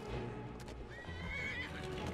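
A horse in the video game Skyrim neighs with a drawn-out whinny over the clip-clop of hooves, the game sounds steady and fairly close with no talking.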